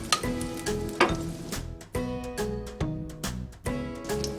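Butter frying in a large saucepan over medium heat, a steady close sizzle with faint tonal ticks and clinks running through it, no talking.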